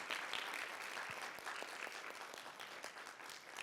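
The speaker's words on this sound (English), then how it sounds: "a big round of applause for this whole room" Warm applause from the audience at a spring poetry reading, a dense and even roar of clapping that fills the room and continues steadily throughout.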